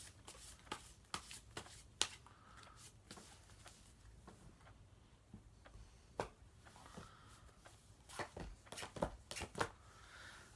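Tarot cards being shuffled and drawn from a deck, a quick run of crisp riffling and slapping bursts with short pauses between, close and fairly quiet, no talking.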